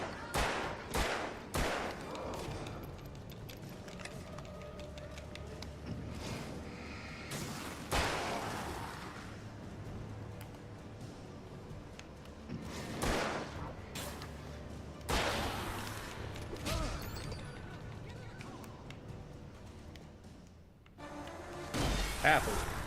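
Gunfire in the Alan Wake video game comes as sharp bursts of shots and impacts, dense at the start and again in several clusters. Rumbling game ambience and music lie between the bursts.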